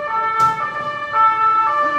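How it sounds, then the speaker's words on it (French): Emergency vehicle sirens wail in a city street, a steady tonal siren close and loud with a passing engine and brief whoosh underneath. "beaucoup de sirènes"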